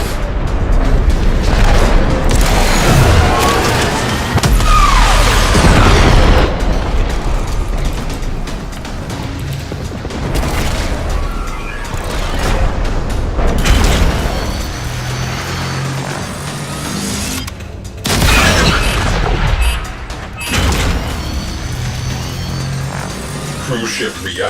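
A cruise ship's reactor detonates in a space combat game, producing loud, rumbling booms and crashing bursts that swell and recede over continuous roaring noise, with a voice speaking over it.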